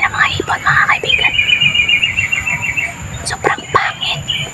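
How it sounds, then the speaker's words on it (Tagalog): Birds calling outdoors, a sustained high rising-and-falling call running through the first few seconds, followed by sharp scattered chirps, heard over a steady background hum with soft talk around it. "pakinggan nyo mabuti yung huni ng mga ibon"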